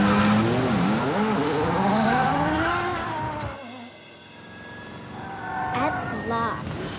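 A car driven hard with tires squealing, engine revs sweeping up and down and screeching skids, loud and close, then dropping to a quieter stretch with brief squeals and a voice speaking near the end.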